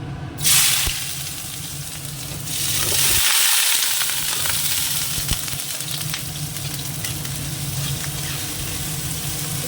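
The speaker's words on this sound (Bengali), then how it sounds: "তেল আর ঘি মিশিয়ে গরম হয়ে গেছে এবার গাজরটাই আগে দেবো" Steady sizzling of carrots frying in a hot mix of oil and ghee, a loud crackle at first settling into a continuous hiss with occasional stirring noises.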